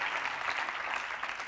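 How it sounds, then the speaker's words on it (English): Audience at a social innovation pitching competition in Lisbon applauding, a steady wash of many hands clapping at moderate volume with no voices over it. "A big applause for David"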